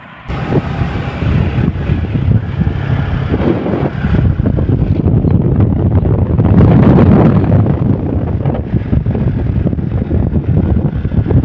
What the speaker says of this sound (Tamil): ஜில்லு ஜில்லு ஜில்லு ஜில்லுன்னு காற்று வந்துக்கிட்டு இருக்கு.